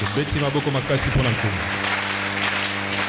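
A church congregation claps and cheers loudly for a few seconds, then the applause fades under a preacher's voice.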